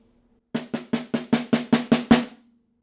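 Snare drum playing a measure of an etude without buzz rolls: nine crisp strokes in an even, steadily building rhythm, the last one accented and loudest, with a short ring after, played alone and close.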